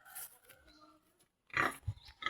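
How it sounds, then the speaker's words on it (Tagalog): Large pregnant pigs grunt and snort close by in short, rough bursts, the loudest near the end after a brief silence. "Ay, ang lalaki ng baboy."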